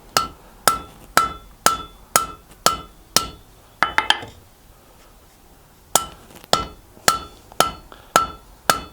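Hammer blows forging a medieval spear head: sharp ringing metallic strikes in a steady rhythm, about a dozen close, loud hits with a short pause in the middle before the pounding resumes.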